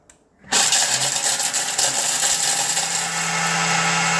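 A blender roars to life and grinds dried turmeric at close range, a loud steady whir with gritty rattling that holds for several seconds without talk.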